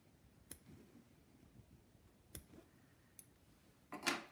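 Scissors snip embroidery thread during punch needle work, giving a few sharp, isolated clicks spaced out over a quiet background, with a louder, busier snip near the end.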